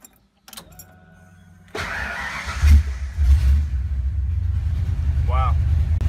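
A drift car's engine fitted with a custom exhaust, heard from inside the cabin: a door and shuffling first, then a steady low engine rumble that holds loud and even to the end, with a brief voice-like sound near the end.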